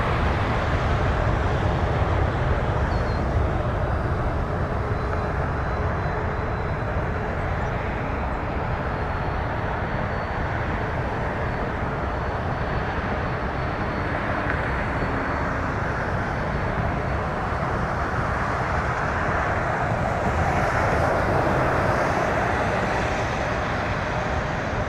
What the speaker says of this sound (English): Air Canada 737.